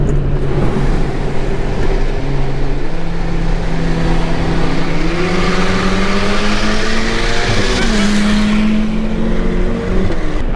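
A Ferrari F8 Tributo accelerating hard, heard as a loud, close engine roar climbing steadily in pitch through the gears, with brief dips at the shifts and no voices over it.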